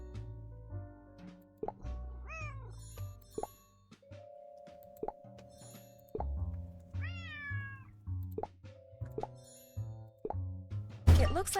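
A cat in the Nancy Drew game Lights, Camera, Curses! meows several times, its cries gliding up and down over a sparse musical score with soft plopping tones and a sharp hit at the end.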